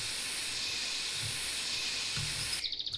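A steady, loud hiss of spray paint covers a car in the video game My Summer Car, running continuously for a few seconds before cutting off abruptly near the end.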